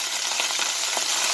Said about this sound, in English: I'm going to put this in there, which you hear a sizzle